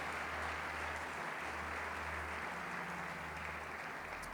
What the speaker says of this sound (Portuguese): Se você crê nisso, aplaude a Jesus mais uma vez,